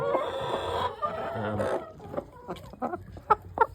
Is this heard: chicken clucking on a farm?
yes